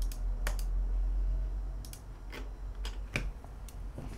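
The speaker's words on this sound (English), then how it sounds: "I'm just clicking around to see if it refreshes." Sharp computer mouse clicks while browsing Maschine 2.8 software, a handful of isolated, close dry taps spread irregularly across a few seconds over a quiet room hum, with no talking.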